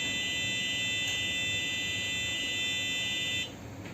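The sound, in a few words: Arduino fire alarm buzzer sounding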